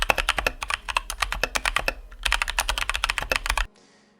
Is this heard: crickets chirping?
no